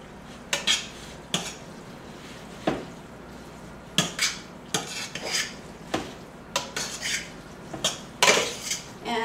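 A spoon stirs sauce through linguine with ham and peas in a pot, making repeated clinks and scrapes against the metal in an irregular rhythm, close and moderately loud over a quiet background.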